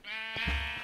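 A Minecraft sheep lets out one short, nasal bleat, close and fairly loud, with a wavering tone and a soft thump or step sound underneath near the end.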